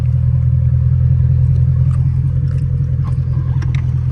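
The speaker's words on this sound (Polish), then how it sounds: "Auto naprawdę pięknie brzmi, zaraz to zademonstrujemy." A supercharged 5.0 V8 Range Rover engine runs with a deep, steady low rumble close by, holding a fairly constant pitch rather than clearly rising revs, with faint clicks above it.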